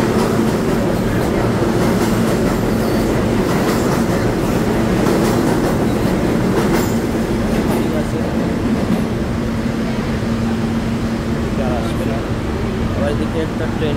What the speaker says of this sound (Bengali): এদিকে একটা ট্রেন আসতে পারে,